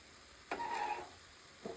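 Cauliflower and green beans fry in soybean oil in a pan, giving a short burst of sizzling that swells for about half a second, fades, then flares briefly again as the vegetables are stirred.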